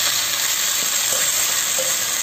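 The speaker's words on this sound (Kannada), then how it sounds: "ಈಗ ಕುಂಬಳಕಾಯಿಯನ್ನು ಕೂಡ ಹಾಕ್ತೇನೆ." Pumpkin pieces for a stew frying in a hot pan, a loud, continuous hissing sizzle with faint scraping stirs, no voices.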